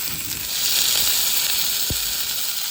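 Wild brook trout skin searing in a hot pan, a steady loud sizzling hiss that stays even throughout with a brief low knock near the end.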